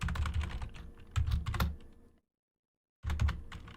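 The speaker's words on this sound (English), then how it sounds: "I'm typing this link in." Rapid keystrokes clatter on a computer keyboard nearby in two quick bursts, broken by a short stretch of total silence before the typing resumes.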